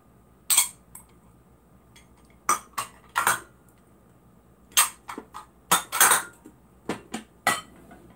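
Unbreakable Taiwanese plastic dinnerware is slammed down and clatters, a series of sharp, loud impacts and rattles at irregular intervals, close by, with quiet pauses between.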